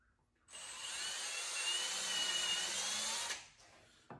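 A power drill with a 9/64 bit spins up and bores steadily into wood for about three seconds, then winds down, loud and close, with no talking.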